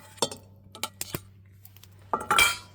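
A metal lid clinks onto a coffee pot for brewing egg-shell coffee outdoors, several sharp light taps and a final rattling seat, close and clear.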